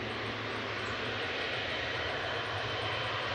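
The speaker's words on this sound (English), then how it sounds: "Etihad 777-300ER heading back to Abu Dhabi, flight 78 A6 ETG." Engines of an Etihad Boeing 777-300ER jet at Manchester Airport, a steady broadband roar with a low droning hum, continuous and fairly close throughout, with no voices.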